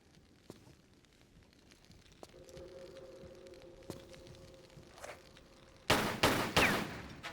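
Gunfire in Tomb Raider 3 Remastered: after a quiet stretch of faint ambient game sound, a sudden cluster of three or four sharp, loud shots rings out in quick succession, processed through a compressor.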